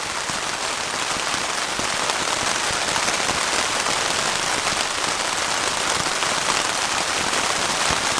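Rain drums on a Zpacks Duplex tent in wind, a dense, steady patter of close drops striking the fabric without pause. It is loud and continuous throughout, and nobody talks.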